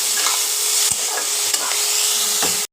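Chili fish curry batter with yogurt, tomato sauce and soy sauce stirred in a pan: a loud, steady hissing sizzle with a few brief spoon knocks, close by, ending abruptly.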